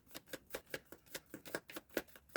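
Soft, rhythmic riffling of tarot cards being shuffled, about a dozen quick bursts in steady succession, close and quiet with no talking.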